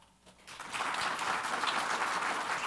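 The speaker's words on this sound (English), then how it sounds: "Mark, clap." A group applauds after a short quiet moment, clapping swelling quickly into a steady, fairly loud patter of many hands that continues to the end.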